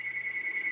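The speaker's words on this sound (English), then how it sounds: "Sorry, the phone's ringing in the background." A telephone rings in the background with a steady electronic tone that pulses in a quick, regular rhythm. The tone is faint and continuous and plays alone, with no one speaking over it.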